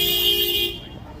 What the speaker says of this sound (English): honking is going to help